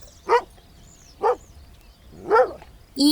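A pet dog gives four sharp, separate barks at roughly one-second intervals, clear and close against a quiet background.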